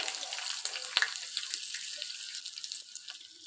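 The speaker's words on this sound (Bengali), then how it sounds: "তেল দিয়ে দিয়ে কুচি করা পেঁয়াজগুলো দিয়ে দিলাম" Chopped onions hitting hot oil for a masoor-style dal, giving a steady bright sizzle that crackles near the pan and slowly settles, with no talk over it.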